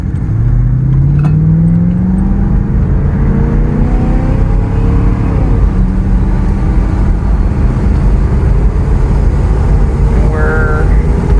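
A car, its service engine soon light on, floored from a stop during a road trip, with a loud steady engine roar rising in pitch through the gears, and speech over it now and then.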